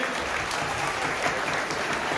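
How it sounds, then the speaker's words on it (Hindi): Steady, dense applause from an audience, continuous and fairly loud throughout with no voices standing out. "इस बच्चे के लिए भरपूर तालियां जरूर बजाएं"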